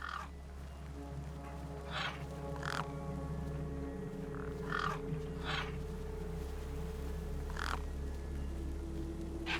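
Several crows caw over a corpse in Beyond a Steel Sky, harsh calls repeating at intervals of a second or two over a steady low ambient drone.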